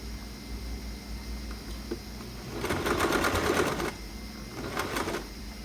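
A sewing machine stitches a sport collar seam at one centimetre, two bursts of rapid close mechanical whirring with a pause between, over a steady low background hum.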